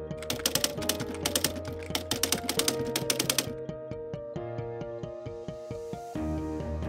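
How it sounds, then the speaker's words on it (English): A founder's old office typewriter is typed on in quick rhythmic bursts of keystrokes, close and clear, with a ringing tonal background running underneath and no talk. "This typewriter was Tony Teals, the founder of Chemonics as we know it today"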